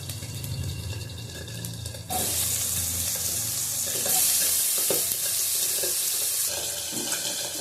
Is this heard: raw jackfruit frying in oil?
yes